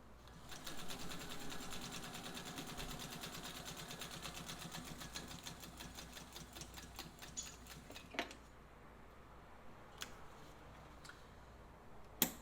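Vintage Singer 201 Centennial sewing machine stitching with a steady, fast mechanical whir and ticking that slows and stops, followed by a few soft clicks and a sharp knock, recorded close and fairly quiet.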